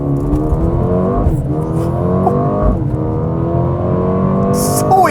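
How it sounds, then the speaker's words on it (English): A 2022 Mercedes-AMG CLA 35 launches hard from a standstill in Sport Plus mode, its close, loud engine revving up through rising gear pulls with brief dips at each shift and no voices. "It's the easiest car in the world to launch."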